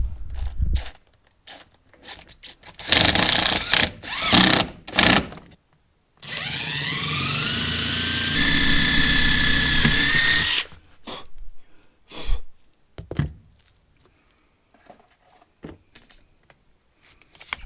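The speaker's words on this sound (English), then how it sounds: "I'll drill some pilot holes through the angle aluminum and into the subfloor" A power drill whirs steadily for several seconds, drilling pilot holes through angle aluminum into a van subfloor, pitch shifting as it bites, framed by scattered clicks and handling knocks before and after.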